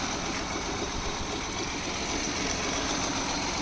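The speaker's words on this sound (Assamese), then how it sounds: "চাওক ইঞ্জিন চলিয়ে আছে" A Maruti 800 car engine idles steadily at close range, a continuous low rumble with constant level and no speech throughout.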